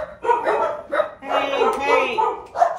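Several dogs bark in loud, repeated bursts at people walking or driving along the road, with a sharp yip near the end.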